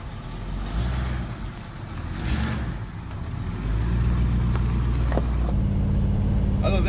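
A 1968 Dodge Hemi Charger's engine runs as a steady low rumble that swells gradually and holds stronger toward the end, with a person talking over it.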